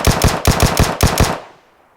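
Rapid machine gun fire in the mobile battle-royale game PUBG Mobile: about six loud, closely spaced shots over more than a second, then a fading tail into near silence.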